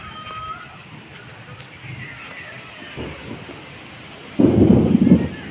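Rain falls steadily with low rumbling throughout, then a louder burst of thunder rolls in near the end.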